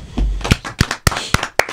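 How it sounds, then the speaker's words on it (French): A small audience at a talk about the last tirailleurs claps sparsely, a handful of distinct, irregular hand claps sounding close by without any voices. "On peut l'applaudir."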